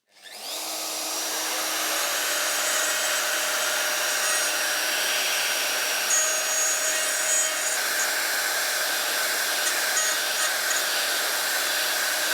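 A round cutter in a router cuts a hinge recess into wood for a model railway table, making a loud, continuous high-pitched whine and rasping cut that starts abruptly and holds steady throughout.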